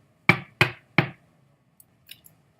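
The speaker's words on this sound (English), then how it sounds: "he came to a castle and knocked loudly on the door." Three loud, evenly spaced knocks on a castle door ring out close by, followed by a couple of faint, brief taps.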